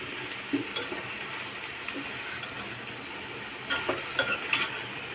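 Potato, beans and vegetables sauté in a pan for mixed vegetable bhaji, giving a soft, steady sizzle broken by scattered light clicks and scrapes of a stirring spoon, with no talking.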